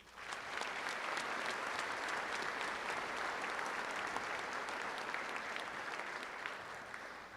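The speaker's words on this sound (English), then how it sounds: "Let's give them all a round of applause." A graduation audience at a commencement breaks into sustained applause, a dense, even roar of many hands clapping at once that holds steady from start to finish at moderate loudness.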